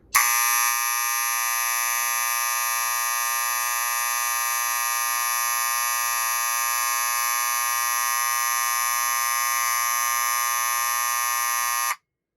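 A Wheelock 7004T electric fire alarm horn, running on 115 volts AC, blares continuously at one harsh, buzzing pitch, loud and close, then cuts off abruptly.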